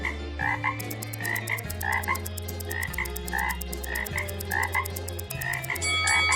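Frogs croak in repeated rhythmic calls over a steady bed of music with a shifting bass line, the croaks bright and regular throughout.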